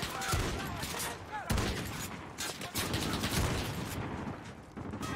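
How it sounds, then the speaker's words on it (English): Rapid bursts of gunfire from the video game Call of Duty Modern Warfare, dense rattling volleys and sharp reports filling the whole stretch at steady, loud level with no pauses. "I don't see where I'm getting shot at"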